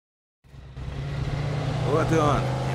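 Inside a car in the video game Mafia 2, an engine starts after a brief silence and settles into a steady low rumble as it pulls away, with a voice speaking briefly over it near the end.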